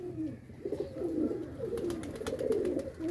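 Several pigeons coo steadily in a loft, low throaty rolling calls overlapping one another at close range, with faint clicks and shuffles.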